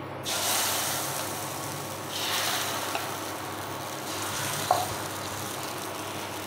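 Dosa batter hits a hot tawa and sets off a steady, close, broadband sizzle that swells and eases in a couple of waves, with a few faint clicks of utensil contact and no talking.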